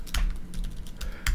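Quick keystrokes click on a computer keyboard while a name is typed into a new Facebook page form, a brief close burst of taps.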